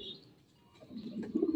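Racing pigeons cooing at a loft during a race arrival, low soft coos swelling near the end over faint background noise, with a brief high chirp at the start.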